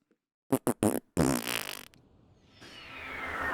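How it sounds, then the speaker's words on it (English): A voiced fart sound effect: three short bursts followed by a longer sputtering blast that trails off into a steady hiss, loud and close, with no other voices. "The fart sound effect was me rating my own impression there"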